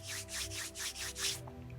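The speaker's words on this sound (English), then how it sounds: "gently starting to rub your palms" Palms rubbing together during an evening yoga session, six quick soft swishing strokes in a steady rhythm, close and quiet over a faint low hum.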